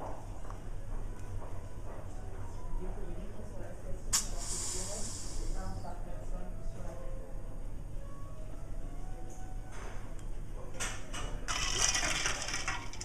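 A champagne bottle is eased open gently, giving a brief soft hiss of escaping gas in a quiet room, with faint clinks around it.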